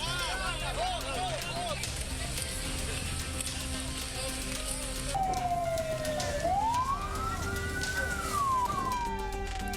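A wailing ambulance siren rises and falls on a road blocked by striking truck drivers near a port, surfacing clearly in the second half over steady background noise and talk.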